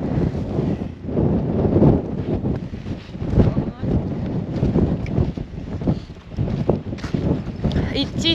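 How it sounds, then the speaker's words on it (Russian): Strong gusting wind blasts the microphone during a hike across open steppe near Baikonur, rising and falling in loud buffeting surges while a person talks. "Идти тяжело, ветер сдувает."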